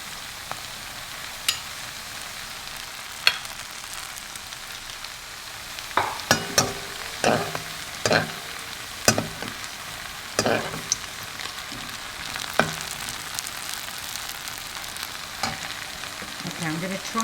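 Steady sizzle of tortillas frying in hot oil runs throughout, with scattered clinks and stirring scrapes, busier in the middle section. No voices.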